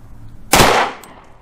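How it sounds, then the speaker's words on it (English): A single 10mm Norma 165 grain factory pistol round fires through a chronograph toward ballistics gelatin, a loud sharp report with a brief decaying tail, alone. "Factory Norma rounds, 165 grain, two across the chronograph, and the third across the chronograph into clear ballistics"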